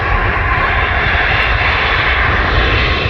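Brussels Airlines airplane jet engines roaring at Manchester Airport, a loud, steady, continuous engine rumble and broadband roar heard from a nearby viewing area, with no voices over it.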